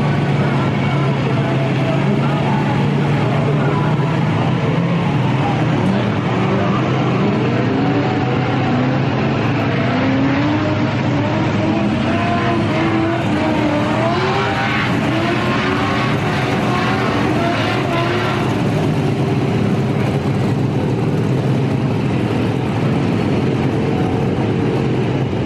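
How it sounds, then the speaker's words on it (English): Cars drifting at a drag racing track, heard as a sustained roar of engines with rising and falling revs and tire noise carrying from the distance under a steady wash of crowd and ambient noise. "Noise you might hear in the background, they're actually drifting right now"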